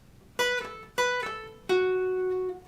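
Three clean guitar notes from a song's solo: two quick plucked notes with pull-offs on the second string, then a longer sustained note on the third string, ringing close and alone.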